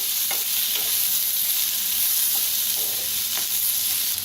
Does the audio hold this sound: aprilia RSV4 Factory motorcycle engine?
no